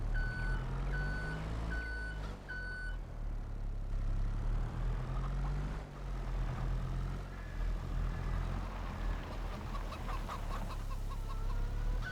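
A truck's reversing alarm beeps in a steady repeating rhythm in the farming video game Farming Simulator 22, then fades out as chickens cluck and chatter loudly over ambient game sounds.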